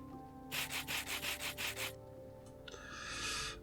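Rose quartz rubbed with sandpaper in the video game Ahh Magika: a rapid series of about seven rhythmic rasping strokes, close and clear, followed after a pause by a steadier, softer grinding scrape.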